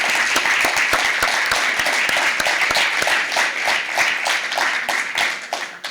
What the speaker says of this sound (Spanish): Primero pido un fuerte aplauso para Héctor Olivera.